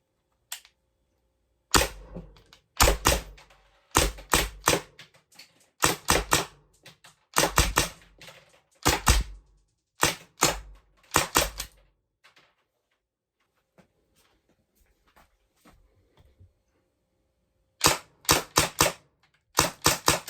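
Byrna Mission 4 launcher firing on an HPA tank at 800 PSI output, sharp loud shots in rapid bursts of several pops, separated by pauses and a quiet gap mid-way before a final volley.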